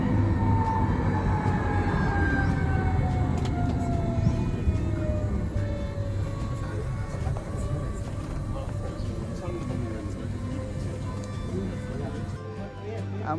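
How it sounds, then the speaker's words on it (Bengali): A mountain railway train rumbles steadily on the way to Jungfraujoch in Switzerland, a continuous low rolling drone with faint squeals and clatter from the wheels, heard from inside the carriage. "ট্রেনের জার্নি"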